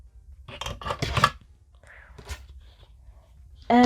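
Scissors snip crochet yarn after a slip stitch, a few short close crisp cuts with soft whispery handling noise, followed by a brief voice at the end.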